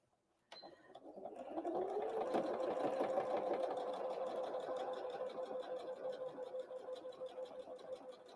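An electric sewing machine stitching a Christmas tree napkin closed starts with a click and runs in a fast, even mechanical chatter that holds steady close by, a soft whirring motor under rapid needle strokes.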